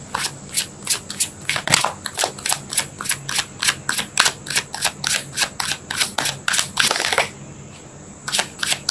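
Tarot cards are shuffled by hand in a quick run of about two dozen crisp, sharp riffling snaps, close and fairly even in rhythm. The shuffling pauses briefly near the end, then a couple more snaps follow, with no talking.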